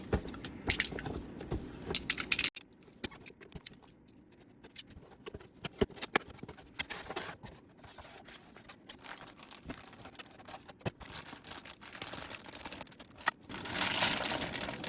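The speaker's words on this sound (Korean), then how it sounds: "자, 다음은 음, 바이브레이션 내지코또 개봉을 해보겠습니다." A Demon Slayer Vibration Stars Nezuko figure comes out of its plastic packaging, giving close, quiet crinkles, small clicks and rustles in irregular bursts, ending in a louder stretch of plastic handling.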